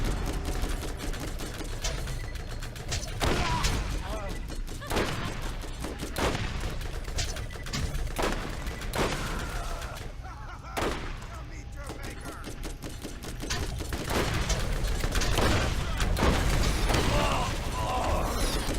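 Rapid automatic gunfire from a weapon in the shooter game Borderlands, sustained bursts of fast cracking shots with brief gaps, loud and close, mixed with other game effects.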